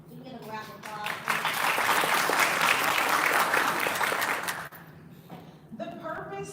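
Audience applause at a sheriff's office campus forum panel, a loud sustained burst of clapping from a crowd that swells quickly, holds for several seconds, then fades out as talk resumes.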